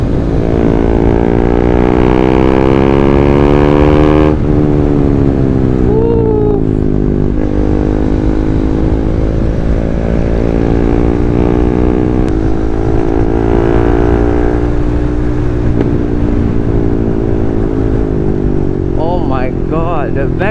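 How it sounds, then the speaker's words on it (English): A KTM 390 Duke with a decat exhaust, loud and close, its engine note rising and falling as it revs, with crackling backfire pops near the end. "The backfire is insane."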